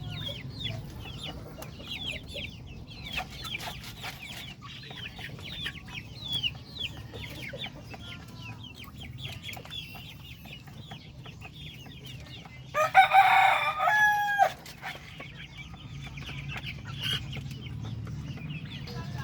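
Native chickens in a backyard with pens, soft scattered clucking throughout over a low ambient hum, with a louder rooster crow rising briefly near the middle before the clucking continues.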